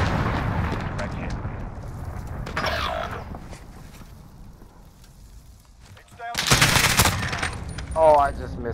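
Gunfire in an online shooter game, with bursts of shots around the middle and near the end over loud in-game noise, while a player talks.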